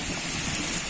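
Steady rain pours down in a village, a dense, even hiss of falling drops filling the whole clip at a constant level with no voices.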